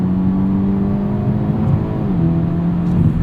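Hyundai Elantra N with dual-clutch transmission accelerating in its most aggressive N Grin Shift mode, a steady, loud engine drone with a rising, shifting pitch heard from inside the cabin, no talk.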